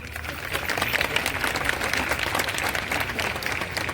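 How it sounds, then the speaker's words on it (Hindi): Steady, full applause from an audience at a Hindi poetry gathering, a continuous crowd of hands clapping without a break for a few seconds. "एक बार जोरदार तालियां बजा दीजिए।"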